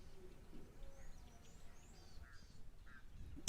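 Egyptian geese at a waterhole give faint, distant honking calls over a low, steady outdoor hum, several short calls scattered through the stretch.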